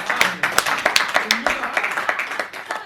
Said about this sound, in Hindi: भाई अजय प्रधान, जोरदार तालियां बजा करेंगे।